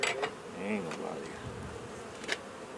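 Aggressive honey bees buzz in and around an open hive, a dense, steady insect drone close by with a few sharper swells and clicks, no talking.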